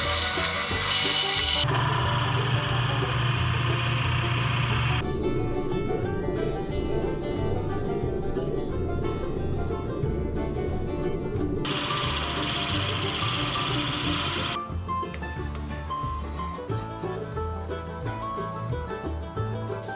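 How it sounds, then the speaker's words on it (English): A power drill bores out a housing for the adjustment mechanism in the bed of a wooden hand plane. A steady, loud grinding whir runs throughout, with brief shifts in pitch and intensity as the bit cuts through the wood. "Now I need to drill out the housing that the adjustment mechanism will sit in"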